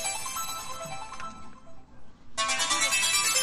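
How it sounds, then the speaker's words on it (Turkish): A telephone rings indoors with a bright electronic ringtone that stops briefly, then returns louder and fuller for the rest of the moment. "Telefon."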